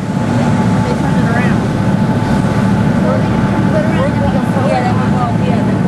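Steady low engine drone and rumbling water noise from a ferry boat underway between Hatteras and Ocracoke, North Carolina, in light rain, continuous and fairly loud, with faint higher tones drifting over it.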